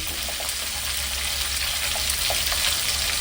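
Fish, a nei mathi, fries in hot oil with a steady, dense, close sizzle that crackles continuously and stays unbroken throughout, with no voices.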